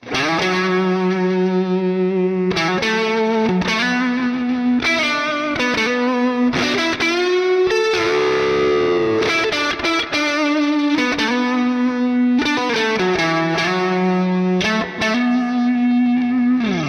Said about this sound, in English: Now voicing 2 on the neck, I believe, is the clean, airy chime voicing.